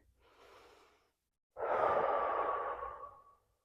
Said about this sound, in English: We're going to take 2 deep breaths here.